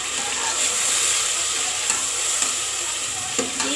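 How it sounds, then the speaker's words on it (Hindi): Mutton pieces sizzling in a hot kadai with green chillies, a steady loud frying hiss with occasional stirring clicks, close up and with no talking. "इसके बाद डालने लगे हम लोग गोश्त"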